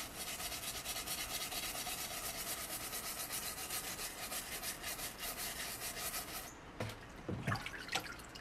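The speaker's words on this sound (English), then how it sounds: "where I've scraped off the charred material" Scraping charred material off softwood, a steady close rasping scrape that runs on and then breaks into a few louder separate strokes near the end.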